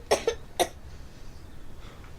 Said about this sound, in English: It's not even a proper cough.